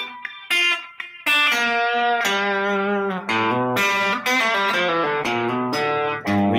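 A slow chicken pickin' country guitar lick on electric guitar, with clear plucked notes, snapped accents and short pauses between phrases, played alone and close.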